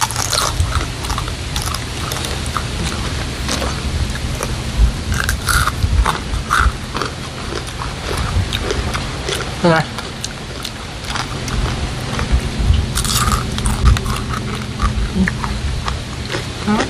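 Crispy dried vegetable and fruit chips, including pumpkin, mushroom, jackfruit and okra, crunch loudly and close up in repeated bites and chewing, with short bursts of speech now and then.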